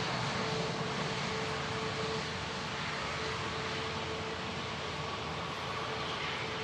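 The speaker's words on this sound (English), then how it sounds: "EasyJet just touched down as well" An EasyJet airliner touching down at Manchester Airport, a steady broadband roar of jet engines and rushing air that holds evenly throughout at moderate distance.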